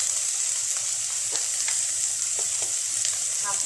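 Turmeric and spices fry on low heat for a puti fish curry, giving a constant hissing sizzle broken by small scraping stirs, close and even, with no talking.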